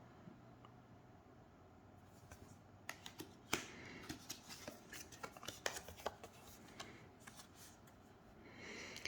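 Tarot cards are shuffled close by in quick bursts of crisp riffling and flicking, rising after a quiet start and continuing in irregular runs, with no voices.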